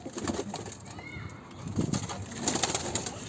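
Soft pigeon cooing with a few wing flutters as birds are taken out, fairly close, over a steady background hiss; no talking.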